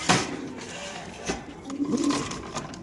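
Racer pigeons kept in cages at a market give a short, close coo amid soft background murmur and rustling.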